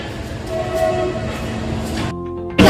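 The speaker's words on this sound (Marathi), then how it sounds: "ट्रेन आली आहे." A train pulling into Panvel station, a loud, steady rumble with faint tonal whine, then a sudden break followed by a sharp burst of noise at the very end.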